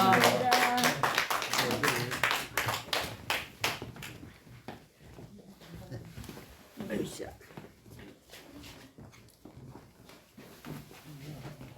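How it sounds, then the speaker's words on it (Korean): A church congregation breaks into loud, dense clapping that fades over several seconds into scattered claps. Someone speaks over the applause as it dies away. "인사하고 이제 들어가시면 박수로 좀 해."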